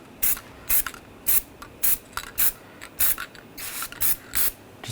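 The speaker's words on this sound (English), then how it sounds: "Just going to spray a little anti-seize on the hub surface." Anti-seize spray hissing onto the hub surface of a 2014-2018 GMC Sierra 1500 truck during a front suspension repair, in about nine short, close, loud bursts at a steady rhythm with brief pauses between.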